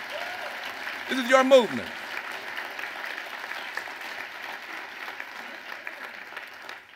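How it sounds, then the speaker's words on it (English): A crowd at a keynote speech applauds continuously at a distance while an amplified voice speaks briefly over the clapping. "Give yourself a round of applause for what you did."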